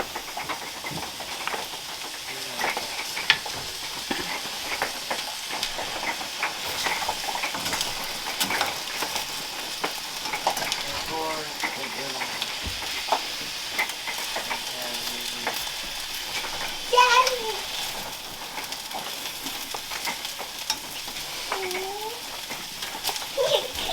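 Peppers and onions frying in a pan for a breakfast hash give a steady sizzle with occasional stirring scrapes, moderately close, with brief faint speech now and then.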